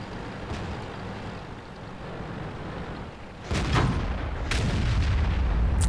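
Tank main gun firing in World of Tanks from a British FV215b 183 tank destroyer: a sudden heavy blast around mid-clip followed by a second crack, both loud and booming over a steady engine and battle rumble.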